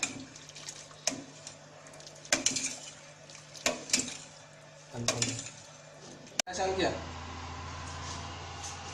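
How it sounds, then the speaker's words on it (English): Rice being stirred into water in a pot while making Hyderabadi chicken biryani, with sloshing and splashing broken by a few sharp knocks against the pot, heard near and fairly quiet. "we will mix the rice well with the water."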